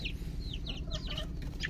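A hatch gamefowl chicken clucks softly in a backyard, giving several short chirpy clucks in quick succession over a steady low background hum.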